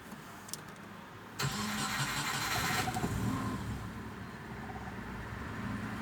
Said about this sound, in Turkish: Kutup başını taktıktan sonra arabayı çalıştırıyorum.